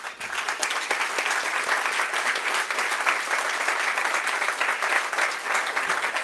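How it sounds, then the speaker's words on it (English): Sustained applause from an audience at a factory inauguration, steady and dense, many hands clapping together without a break for several seconds. "And a roaring round of applause"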